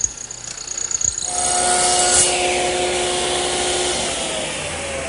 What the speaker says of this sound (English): I've set up my dedicated mortiser with the 1/4-inch chisel, adjusted the fence, and set the hole down